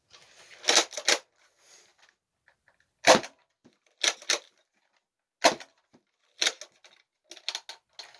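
A Nerf Rival Kronos blaster firing foam balls, a string of sharp close snaps and clacks in irregular bursts with near-silent gaps between them.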